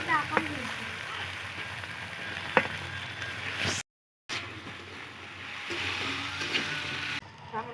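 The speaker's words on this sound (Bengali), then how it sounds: "আমি তেলের ভেতরেই আমি আলুগুলো লাল লাল করে ভেজে নেবো" Potatoes frying in oil sizzle steadily at moderate loudness, with occasional sharp pops and stirring clicks, a short silent gap midway, and a voice speaking faintly at times.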